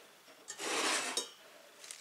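A metal cooking pot for boiling green beans is picked up and set down in a kitchen, giving a short clattering scrape and clink at close range, with nobody speaking.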